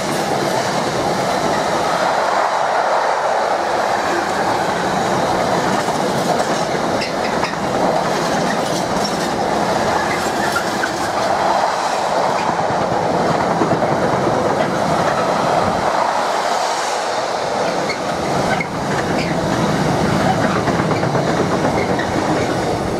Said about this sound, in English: It's a Freightliner Class 70 Powerhaul locomotive in charge of a container train.